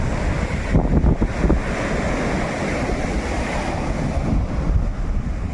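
Sea waves wash up on a beach in a steady, rushing surge mixed with wind buffeting the microphone, with a few louder swells rising and falling.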